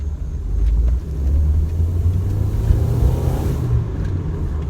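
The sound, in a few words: Nissan Altima car engine running and accelerating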